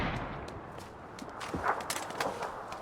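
Gunfire in the battle royale game PUBG: a few scattered shots and distant cracks crackle over ambient game noise, fairly muted rather than close and loud.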